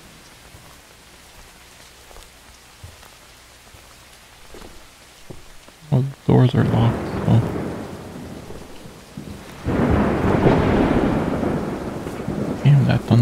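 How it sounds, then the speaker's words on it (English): Heavy rain patters steadily while two deep thunder rumbles roll close and loud during a storm around a house, someone briefly speaking early on under the building weather. "Damn, that thunder sound crazy, bro."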